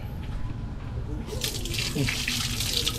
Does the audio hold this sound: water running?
yes